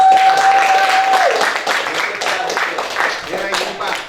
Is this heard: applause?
yes